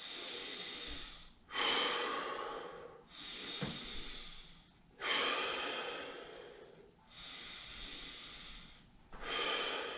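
Slow, deep breaths during a standing Kundalini yoga stretch: alternating loud airy inhales and exhales, close to the ear, repeated in a steady rhythm with no talking.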